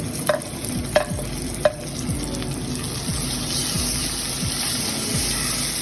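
Tomatoes and green chilies stirred into a pan with ginger, giving a steady sizzle with repeated scraping strokes and a few sharp clinks early on, close and continuous without talk.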